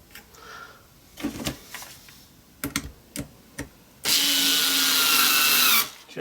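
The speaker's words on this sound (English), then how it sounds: "I'm just going to have a tiny little drill this time." A tiny cordless drill drives screws into a steampunk build, a few short tool clicks and handling taps followed by one sustained loud whirring burst of nearly two seconds, close and alone.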